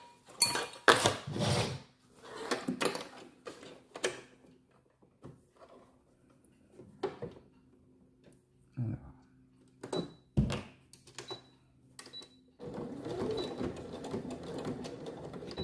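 Sewing machine stitching the corners of a fabric pouch in short bursts, forward and reverse runs separated by quiet pauses and handling clicks, close by, with a voice talking in between.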